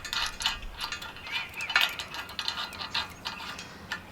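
Metal ratchet working a nut on a bolt on a Kansas farm, a quick run of light clicking and small metallic clinks with soft handling noise, no talk.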